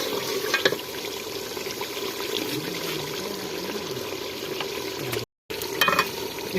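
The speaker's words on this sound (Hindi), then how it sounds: "2-3 मिनट के लिए मज़ीद इसे भून लेंगे।" Desi chicken curry frying and being stirred in a pan, a steady close sizzle with occasional scraping stirs, broken by a brief pause near the end.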